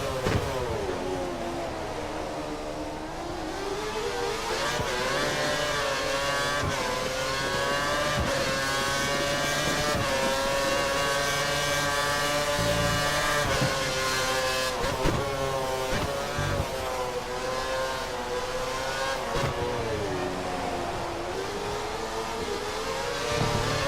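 Formula 1 car engine from the Formula 1 2013 racing game at the rain-soaked Shanghai circuit, a loud continuous high-pitched whine rising and falling with gear shifts and throttle through the whole stretch, with no voices.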